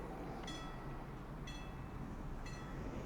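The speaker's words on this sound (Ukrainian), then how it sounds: "Ну, поїзд їде." Steady low rumble of a passing train in the game Counter-Strike 2, a continuous rolling drone with three evenly spaced bright metallic squeals about a second apart, no talk.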